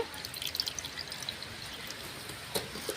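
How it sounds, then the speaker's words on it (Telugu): Tamarind water poured into a stone mortar holding leftover dried red chilli chutney, a faint soft trickle with a few small splashes and drips, no talk. "ఈ మిగిలిన పచ్చడి వేస్ట్గా కడిగేసుకోకుండా ఇదిగో ఈ చింతపండు నీళ్ళు పోసేసుకొని"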